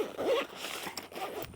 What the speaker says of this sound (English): Fully zips up.